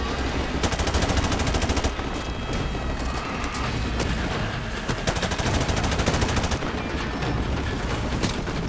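Heavy automatic gunfire in Call of Duty 4: Modern Warfare Remastered, relentless machine-gun bursts and overlapping shots with occasional booms, loud and continuous throughout a chaotic firefight.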